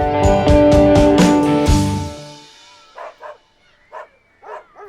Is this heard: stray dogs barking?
yes